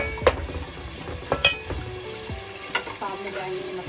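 Vegetables and spices frying and sizzling in a pan for vegetable biryani, a steady close sizzle with occasional stirring clanks of a spoon against the pan.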